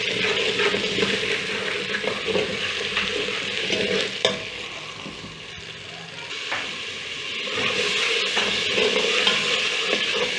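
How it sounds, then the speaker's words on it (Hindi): Onions with ginger garlic paste fry in a pan for a restaurant-style mixed vegetable dish, a steady close sizzle with continuous stirring and occasional scrapes of the utensil. "प्याज को ब्राउन होने तक हल्की सी ब्राउन कर लेंगे, फिर हम इसमें अदरक लहसुन का पेस्ट ऐड करेंगे।"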